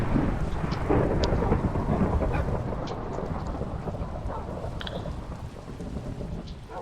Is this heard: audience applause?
no